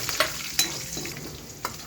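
Green chilies frying in a hot pan, a steady close sizzle with a few sharp crackles and stirring scrapes, no talking.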